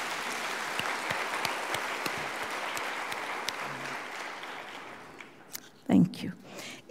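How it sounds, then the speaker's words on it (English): Audience at a University of Nairobi graduation ceremony applauds the graduates, a sustained patter of many hands that gradually fades, followed by a voice speaking close to the microphone. "Let's clap for you."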